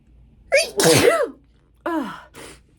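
Two sneezes close to the mic, each a sharp inhaled lead-in and loud burst, separated by a short pause.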